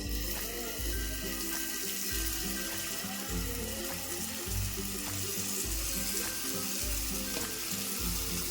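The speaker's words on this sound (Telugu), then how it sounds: "వేడెక్కిందండి నూనె అయితే మనం ఇందాక చేసి పెట్టుకున్నాం కదండి పన్నీర్ ముక్కలు ఈ ముక్కల్ని మనం ఇందులో వేసేసుకోవాలి" Paneer pieces frying in hot oil in a pan, a steady close hiss and sizzle with light clinks and taps of handling throughout, no talking.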